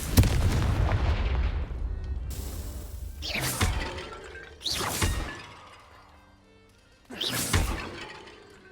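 Confringo explosive spell cast in Hogwarts Legacy, several loud booming blasts with shattering crackle spaced a couple of seconds apart, each decaying into quieter game ambience.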